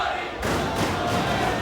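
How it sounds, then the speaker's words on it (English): Wrestling arena crowd at a Ring of Honor match chanting for Roderick Strong, a loud, dense wall of many voices filling the space from close by, continuous for the whole moment. "Here's the crowd chanting, "Let's go, Roddy.""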